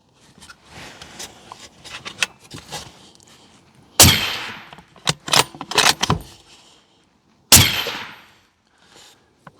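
A suppressed Remington 700 rifle with an AB 762 suppressor fires on an outdoor range, giving a sharp report near 4 seconds and another near 7.5 seconds, with clicks and handling noise between them.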